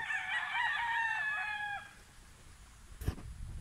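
A young gamecock stag at a game farm in Jagna, Bohol crows once, a clear multi-note call up close lasting nearly two seconds, followed by a brief bump of handling noise.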